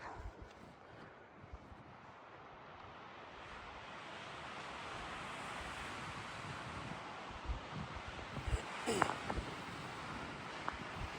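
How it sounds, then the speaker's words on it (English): Strong wind roars steadily at night on the Continental Divide Trail, swelling in intensity, with rustling and gusty buffeting against the microphone, plus brief faint vocal sounds near the end. "The windiest night on the trail."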